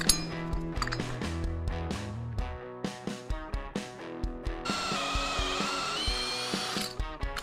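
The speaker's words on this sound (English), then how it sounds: "Make sure it's on the drill setting, then it won't stop." Power drill fitted with a hole saw boring through a wooden house sill plate for plumbing, a steady loud grinding whir that shifts to a higher, harsher pitch partway through as the cutter bites, with brief pauses and restarts.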